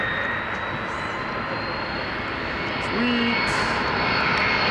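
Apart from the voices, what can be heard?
McDonnell Douglas DC-10 airliner jet engines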